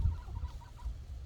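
Geese on a lawn give soft, low honks and clucking grunts, a few short quiet calls close by with no talking.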